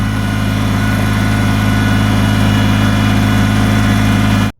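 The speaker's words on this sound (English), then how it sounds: "we have our Kubota tractor back in position" A Kubota tractor idles steadily at close range on a mountainside during tree recovery, its engine a constant low rumble that runs alone until it cuts off abruptly at the end.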